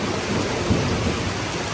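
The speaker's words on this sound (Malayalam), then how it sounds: "നല്ല ഇടിയെല്ലാം ഉണ്ട്" Steady heavy rain with a low rumble of thunder during a monsoon storm in Kerala, continuous and fairly loud, with a brief swell of thunder near the middle and no voices.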